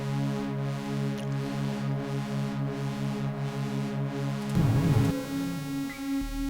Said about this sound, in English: Volca Keys.